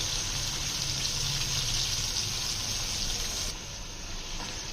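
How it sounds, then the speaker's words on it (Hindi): Water poured steadily into a pot of roasted chickpeas and spices while making chickpea pulao, a continuous close gushing splash that eases slightly near the end. "अब इसके अंदर हम पानी डाल देंगे।"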